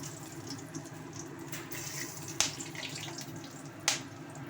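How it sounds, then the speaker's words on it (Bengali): Low hiss of hot oil with two sharp pops, one near the middle and one near the end, as whole spices and cardamom burst. "ভীষণ পরিমাণে গরম মশলার এলাচটা ফুটে উঠলো দুমদাম করে"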